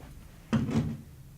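A door is opened for a visitor, giving a short wooden clack and a brief creaking sweep, close and clear against a quiet room.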